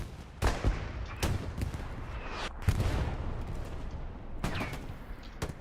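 Artillery fire in the World War II video game Hell Let Loose, with several heavy booming blasts spaced a second or two apart, each rolling off into rumble over a constant low battlefield drone.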